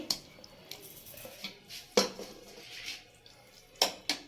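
Rice and lentil dal are served onto a plate, with a few sharp clinks of a utensil against dishware spaced apart and soft scraping and handling noises between them, close and fairly quiet.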